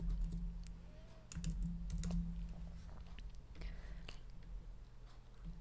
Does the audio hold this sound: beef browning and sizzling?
no